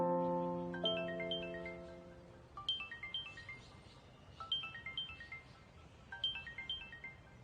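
A phone ringtone for an incoming call from a wife plays alone as a bright, repeating melodic pattern of short tones, opening with a sustained chord and then cycling through quick descending phrases at moderate loudness.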